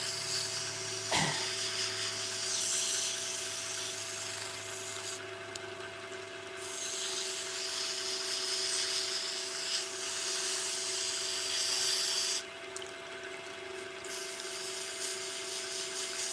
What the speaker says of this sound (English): you dip in the sandpaper. And this is 400 grit.